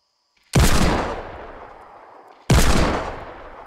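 Two loud, sharp Magnum pistol shots in a video game, about two seconds apart, each followed by a long fading echo tail.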